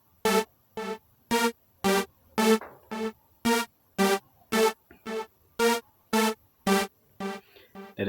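A bright synth lead in an amapiano beat made in FL Studio Mobile plays a steady run of about fifteen evenly spaced, punchy stabbed notes, loud and alone with no talking.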